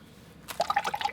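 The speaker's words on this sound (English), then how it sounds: "Rinse off the brush, dry off a little bit of water," A watercolor brush is swished in a water pot, giving a quiet stretch followed by a brief burst of small splashy drips and trickles, close and alone.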